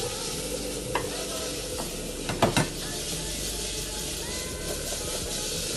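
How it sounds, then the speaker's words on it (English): Garlic sizzles and crackles in a hot pan for a cook show, a steady frying hiss with a few louder stirring scrapes near the middle and no talk over it. "I'm just going to let the garlic cook out for a bit"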